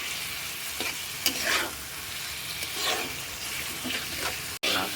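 Pointed gourd stir-fried in a pan of cooked spice paste gives a low, steady sizzle, broken by scraping spatula strokes that come every second or so and end in a sharp knock near the finish.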